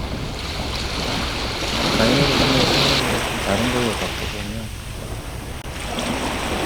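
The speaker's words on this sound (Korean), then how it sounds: "지금 이제 들어보시면은 실제 파도 소리처럼 이제 소리가 리얼하게 들려요." Ocean waves wash in an ambisonic binaural rendering, a steady broad surf hiss with swelling rushes, while someone talks over it in Korean.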